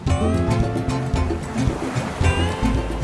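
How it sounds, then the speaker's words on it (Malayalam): A speed boat off Phuket towing a parasail across the sea, heard as a continuous low engine drone mixed with the wash of waves and water rushing past, loud and close throughout. "സ്പീഡ് ബോട്ട് മുൻപേ ഓടുന്നു."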